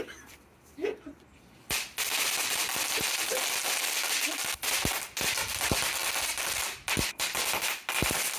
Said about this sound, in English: Right, exploding sprouts here. This is gonna go off without a hitch.